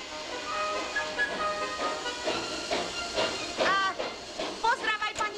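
A steam train pulls away from a station, with loud continuous hissing steam and bursts of whistle-like tones, and voices are heard mixed in around it.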